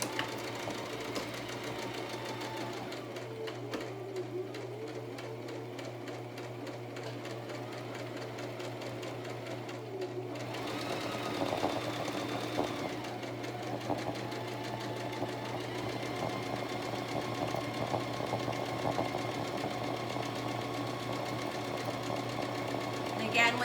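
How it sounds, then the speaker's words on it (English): A sewing machine runs steadily as fabric for an envelope pillow cover is guided through, a continuous mechanical hum that grows slightly louder partway through, with a voice talking over it. "if you ever need to stop mid-sew to adjust anything, make sure that your needle is inside the material"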